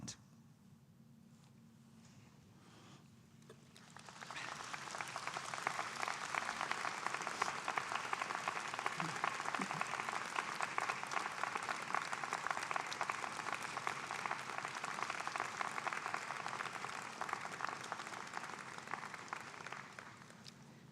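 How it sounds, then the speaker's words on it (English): Graduation convocation audience at a university breaks into sustained applause after a quiet start, a dense wash of many hands clapping that swells and holds steadily for the rest of the stretch. "stand, look around you and behind you, and applaud all who have helped you to get to this point"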